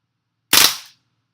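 A WE Apache MP5 gas blowback airsoft gun fires one sharp, close crack with a fast-decaying tail, loud and isolated against silence.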